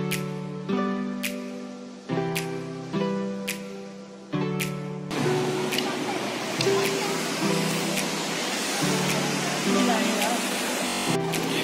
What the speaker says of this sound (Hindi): एक साइड पे पानी का झरना है